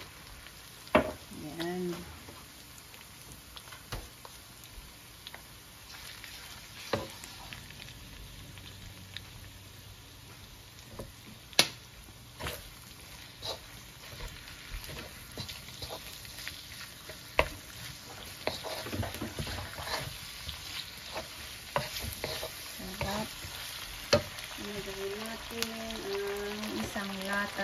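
Sautéed shrimp paste (alamang) sizzles and crackles in a pan with intermittent stirring scrapes, for a ginataang Baguio beans dish; a voice speaks briefly over the steady frying.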